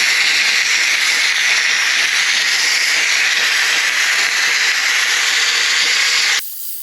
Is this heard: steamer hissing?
yes